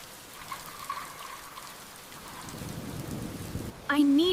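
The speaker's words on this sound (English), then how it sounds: "The wind is strong. Rain began pouring heavily." Heavy rain pours down in strong wind, a steady broadband wash with a rumbling low swell, ending abruptly in a loud tonal sound.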